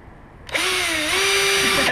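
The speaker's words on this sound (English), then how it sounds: "We're breaking out the drill." A power drill whirs on after a short lull, its motor pitch dipping briefly under load and then holding steady, loud and close.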